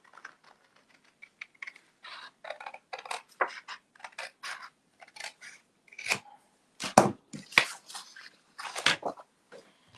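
Scissors snip through printed white cardstock in quick, irregular bursts of short crisp cuts, close and fairly quiet against a silent background.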